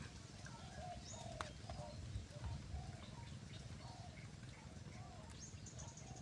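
Spotted doves cooing outdoors, a distant rhythmic series of soft low coos with a few faint chirps from other birds, under a steady low rumble of background noise.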